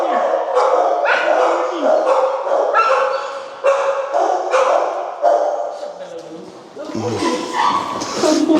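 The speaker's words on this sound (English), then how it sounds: "these guys are barking" Several dogs bark and yip close by in a rapid, overlapping chorus, with some higher yelps mixed in throughout.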